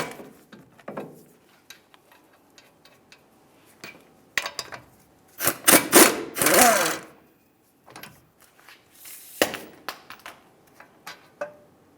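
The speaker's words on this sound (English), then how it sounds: "you have 2 21mm bolts. We'll remove the top bolt, leave it in a couple threads, fully remove the lower bolt" A wrench works the 21mm brake caliper bracket bolts on a 2005-2010 Dodge Dakota front brake job, with sharp metallic ratcheting and clinks in irregular bursts, densest in a loud stretch midway, with quiet gaps between.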